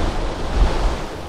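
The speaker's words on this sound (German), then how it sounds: "Das hier ist der Wasserfall vor der Kraterwiese." A waterfall in an underwater creature survival video game roars in a loud, continuous rush with a deep rumble underneath. No voices are heard.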